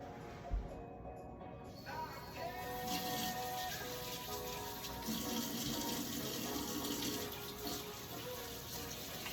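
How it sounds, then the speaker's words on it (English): Tap water runs steadily into a sink while hands are washed in a home kitchen. It is a continuous, fairly soft splashing hiss with small shifts as the hands move under the stream. "First, I need to wash my hands."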